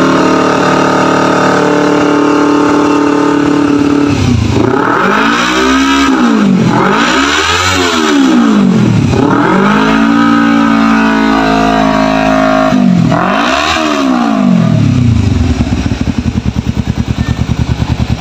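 A 2011 Kawasaki Ninja motorcycle engine revs repeatedly up and down from idle, several loud close throttle blips rising and falling over a steady running note.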